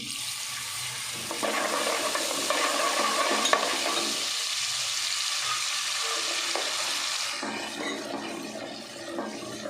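Chickpeas roasting over slow heat in a pan for a Lahori khoya chanay dish, giving a steady close-up frying sizzle with scraping stir strokes throughout.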